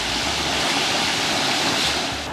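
Spectacular waterfall in the Togo highlands, a loud, steady broadband roar of falling water heard close and continuous throughout, with no voices.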